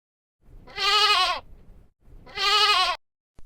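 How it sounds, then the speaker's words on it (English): A goat bleats twice, two loud, close, wavering calls of about half a second each, separated by a short pause. "A goat."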